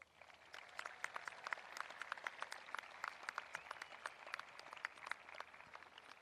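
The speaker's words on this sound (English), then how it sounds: "Big round of applause." Applause at a high school graduation ceremony, a faint, distant crowd clapping steadily in a large hall, with scattered sharper claps standing out.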